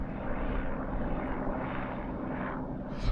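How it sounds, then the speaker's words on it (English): A helicopter's constant droning engine fills the air over the Tre'r Ceiri hillfort, loud and unbroken throughout, with no voices. "A helicopter?"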